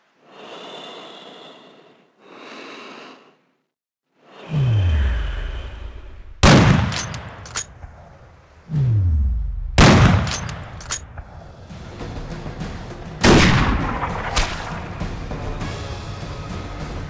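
Sniper rifle gunfire in Sniper Ghost Warrior, several loud, sharp shots spaced seconds apart, each with a deep booming tail, following quieter breathing-like sounds.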